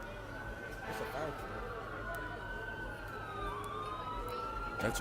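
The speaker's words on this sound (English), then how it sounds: "you hear the sirens coming" A fire truck siren wails from a distance and swells as it approaches, with rising and falling tones over a steady background of traffic and people talking.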